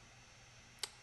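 One sharp computer mouse click, close and crisp, standing alone after a second of quiet room hum.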